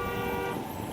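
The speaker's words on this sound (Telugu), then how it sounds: "వెనక నుంచి ఇంకొక హారన్ కొడుతారు, వాళ్ళు బస్సుకు కొడుతారు." A vehicle horn in city traffic near the Nagole and LB Nagar flyovers sounds a single sustained toot, loud and close, over a low traffic rumble.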